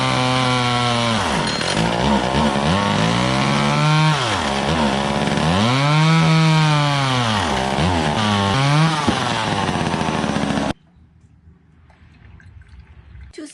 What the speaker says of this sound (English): And it's going to get loud because I'm going to use the chainsaw.